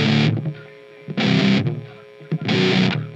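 A main riff on heavily distorted electric guitar, played as three loud, chunky bursts separated by brief near-silent gaps, with no voices over it.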